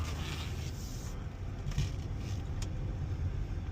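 A Range Rover L322 is driven, giving a steady low engine and road rumble heard from inside the cabin, with a few light rattles and scrapes over it and no talking.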